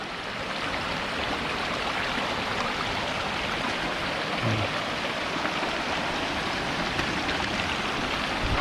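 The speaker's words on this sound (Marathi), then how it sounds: "इथे वाहता पाणी असतं ना मित्रांनो" Water runs steadily through a flowing stream where shellfish are found, a dense, even rush with no breaks, loud and close throughout.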